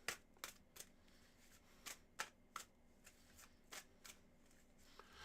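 Tarot cards are shuffled by hand in quick, soft riffles and snaps that come in irregular bursts over several seconds. The sound is quiet and close, with no talking.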